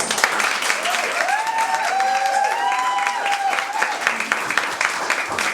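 An audience at an Iranian art and craft festival breaks into sustained applause, dense clapping with a voice calling out over it near the middle before the clapping thins toward the end.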